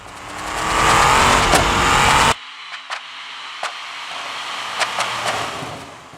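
Race car engines in the BeamNG racing game on a snowy mountain road, a loud, broad engine roar for about two seconds that cuts off abruptly, followed by quieter idling with scattered sharp knocks and clicks.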